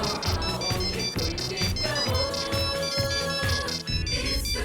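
An incoming-call phone ringtone plays as a bright repeating electronic melody over a pulsing beat, loud and continuous throughout.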